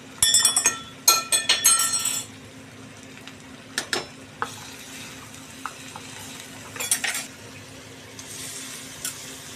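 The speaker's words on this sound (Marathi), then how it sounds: "छान असं हलवून घ्यायचं मीठ टाकल्यानंतर" Cabbage mixture stirred in a pan after salt goes in, a spoon clinking and scraping against the metal in quick bursts at first, then sparser clinks over a faint sizzle.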